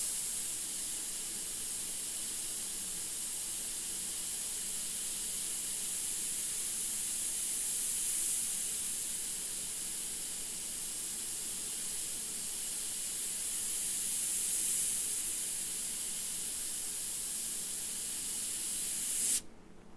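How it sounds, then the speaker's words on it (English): Airbrush spraying paint gives a continuous, close, even hiss of air that holds steady for nearly twenty seconds before cutting off abruptly. "When paint comes out the airbrush,"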